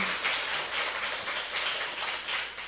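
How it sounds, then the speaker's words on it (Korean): Studio audience applause on a Korean talk show, a steady wash of many hands clapping at moderate volume that softens toward the end, with no talking. "박수 한번 해주십시오."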